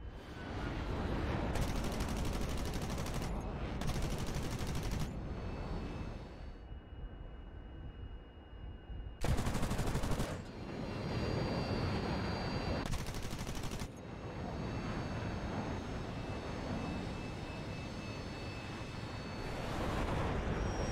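Jet fighters in a dogfight loose repeated bursts of machine-gun fire, several loud broadband volleys separated by quieter stretches of rumbling engine and aircraft noise, distant and roaring.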